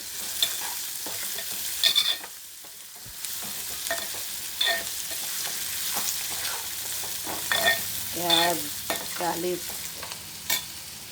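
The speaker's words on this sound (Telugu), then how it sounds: "క్యాలీఫ్లవరు, చిక్కుడుకాయ, చిక్కుడుకాయలు, టమాటా వేసి కర్రీ చేస్తున్నాను." Vegetable curry of cauliflower, broad beans and tomato with onion, green chili, ginger-garlic paste and turmeric cooking in a pan, with scraping stirs, utensil clinks and a low sizzle continuing steadily, no voices.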